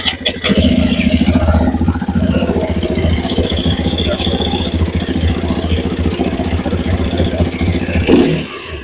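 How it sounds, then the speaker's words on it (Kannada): A Hero Xpulse 210 motorcycle engine starts with a short crank and settles into a steady, close, rattling idle with some revving, under a voice. "ಇದ್ರದ್ದು ಗಾಡಿ ಸೌಂಡ್ ಕೇಳಿಸ್ಕೋರಿ ಎರಡ್ರದ್ದು."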